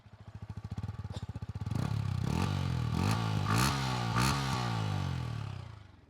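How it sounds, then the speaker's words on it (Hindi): A Yamaha MT-15 motorcycle exhaust burbles at idle, then revs up in several quick throttle blips with a raspy, loud note before settling back down. "मैं एक बार एग्जॉस्ट नोट आपको सुना देता हूँ"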